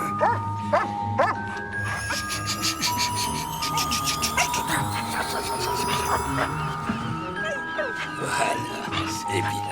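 A dog barks and yips in short bursts in a French-dubbed Christmas film scene. The barks are scattered over about ten seconds beneath a person talking, with ringing chime-like tones in the background.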